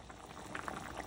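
Fish curry simmering in a covered pot, a steady bubbling hiss with soft pops throughout, close and fairly quiet with no talk.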